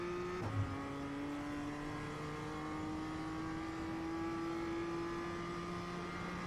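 Engine of a BMW M2 CS in the iRacing simulator climbing through the gears at Ledenon, a steady rising drone broken by a quick upshift early, then a long sustained pull with the tone gradually climbing, no talk over it.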